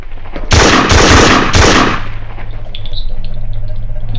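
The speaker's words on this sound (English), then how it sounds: "I'm just shooting them first." Gunfire in a Roblox game: three loud bursts of rapid shots crowd the first two seconds, followed by a low hum and faint game noises.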